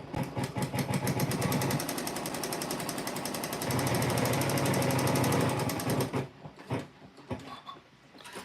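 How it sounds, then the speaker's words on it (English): Sewing machine stitching the last seam of a quilt block, a fast, even mechanical rattle running continuously for about six seconds before stopping, followed by a few quieter handling noises. "And then sew the last seam."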